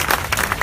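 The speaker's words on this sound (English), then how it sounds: "give yourself a round of applause" A crowd at a Black Lives Matter vigil and rally in Charlottesville, Virginia applauds in a short burst of dense, fairly close clapping.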